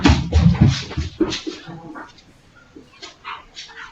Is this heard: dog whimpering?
yes